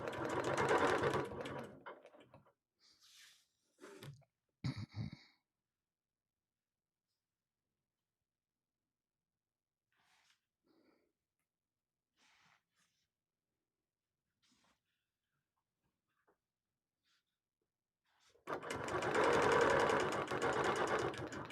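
A sewing machine stitches during ruler quilting on a panel, running in close bursts at the start and again near the end, with a long near-silent stretch between them.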